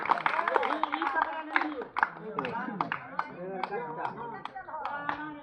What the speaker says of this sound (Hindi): ताली बजा दो, ताली बजा।